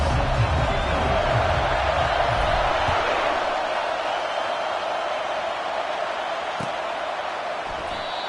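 A stadium crowd roars throughout a college football game in EA Sports College Football, a dense, loud, sustained wash of cheering with a faint thump partway through.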